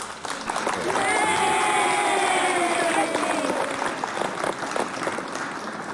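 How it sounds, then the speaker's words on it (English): Audience applause rises quickly and holds steady for several seconds, a dense patter of clapping hands with a voice speaking over it. "Clap for Jen Ingram, please."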